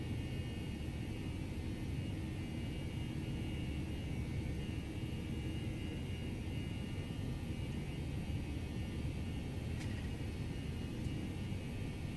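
Airbus A319 jet engines at takeoff thrust in a flight simulator game, a steady broadband roar and hiss holding constant throughout, fairly faint and continuous with no speech.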